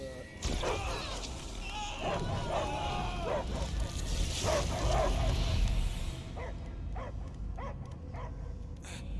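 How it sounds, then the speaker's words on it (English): A dog barks and yelps repeatedly amid a dense, busy mix of sounds from the game Guardians of the Galaxy, then a few sharper, separate barks ring out near the end. "I hear only barking."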